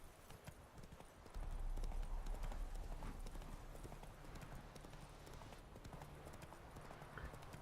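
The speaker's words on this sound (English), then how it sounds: "Whoa there, Roach." Hooves of the horse Roach in the video game Witcher 3 clip-clop in a steady rhythm at close range, underpinned by a low rumble of game ambience and no talking.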